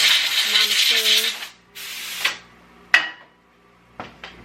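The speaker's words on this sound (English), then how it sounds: "I do want to spray my machine" Lubricant is sprayed onto a Melco embroidery machine in a couple of short hissing bursts, followed by sharp metallic clicks and taps of handling the machine, close by and clear.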